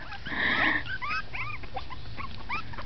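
Six-week-old Pekingese puppies squeal and whimper in high, rising yips around their mother dog on grass, with a louder burst of whining near the start and steady small cries after.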